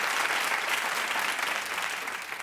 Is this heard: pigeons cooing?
no